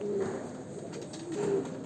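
Two soft, low pigeon coos about a second apart, close by, over a steady background hum.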